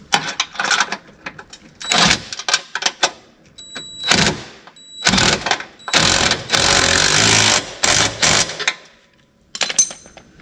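Power drill boring a hole for a RoadMaster tow bar mount on a towed car behind a 2005 American Eagle motorhome, loud whirring bursts that start and stop repeatedly, with one longer sustained grind.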